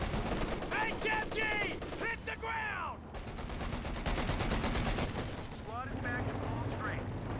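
Machine gun fire rattles in bursts across a Company of Heroes 2 battle, layered over dense game noise with sweeping effects and someone talking throughout.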